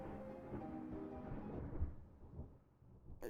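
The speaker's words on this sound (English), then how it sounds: "There's a thunderclap." A loud thunderclap breaks into a deep, rolling rumble that fills the scene, with a steady low tone running beneath it and a sharp crack near the end.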